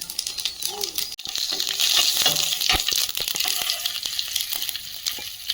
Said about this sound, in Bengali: কড়াইতে তেল দিয়ে দিলাম শুকনো লঙ্কা গোটা জিরে